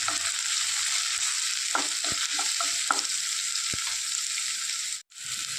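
Chopped ginger, garlic and green chilli are stirred in a hot pan, a steady sizzle of frying under a series of scraping spoon strokes, with a brief cut near the end.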